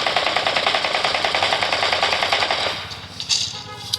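Rapid automatic gunfire in the ANOS video game, a loud, steady rattling burst lasting nearly three seconds before breaking into a few scattered single shots.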